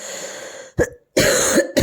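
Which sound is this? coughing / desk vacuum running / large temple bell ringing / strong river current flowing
coughing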